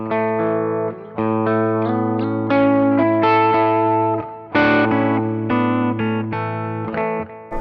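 Electric guitar played through a 1981 DRV overdrive pedal with an old-Marshall-style crunch, loud sustained distorted chords and notes ringing continuously with brief gaps, no talking.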